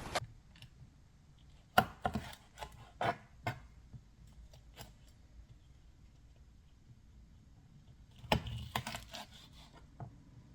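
Habanero pepper being cut with a knife on a cutting board in a home kitchen: scattered sharp taps and knocks, a few louder clusters, over quiet room noise.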